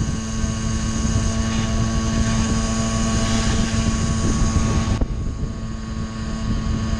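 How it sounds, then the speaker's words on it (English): A 1982 Honda Express NC50 moped climbing uphill in second gear gives a steady, fairly loud engine drone with a whining hum, then drops abruptly in pitch and level near the end. "There goes the transmission, just shifted into second. It's 25 miles an hour uphill."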